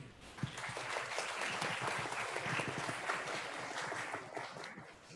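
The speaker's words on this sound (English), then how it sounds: "Please give her a big round of applause." An audience at a school performance event applauds continuously and fairly evenly, with a steady wash of clapping and a few sharper claps close by.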